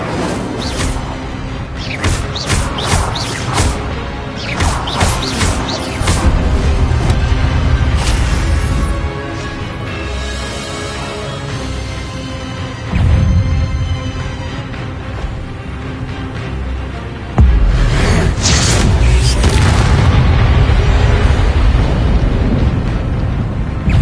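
Fire spells cast in Hogwarts Legacy burst out in loud, repeated whooshing blasts and booming magical impacts, layered over continuous game music and effects.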